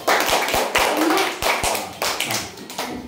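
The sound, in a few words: students clapping loudly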